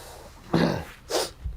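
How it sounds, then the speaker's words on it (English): A person blows their nose in two short, forceful, breathy honks about half a second apart, close to the microphone, followed by a faint sniff. "Excuse me, I gotta blow my nose."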